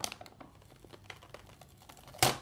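Christmas wrapping paper crinkles and rustles in quick, soft bursts as gifts are wrapped indoors, ending in a louder sharp crackle or tear near the end.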